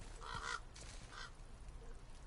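Odin's raven in a video game gives two faint, hoarse croaking calls, the first longer and the second shorter, over a quiet background.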